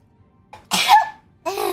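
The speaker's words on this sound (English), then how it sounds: "I'm not ready. I gotta sneeze." A single close sneeze from a woman gaming on stream, a soft intake leading into a loud burst, then a brief vocal follow-up at the end.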